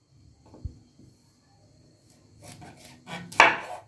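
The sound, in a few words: knife cutting cauliflower florets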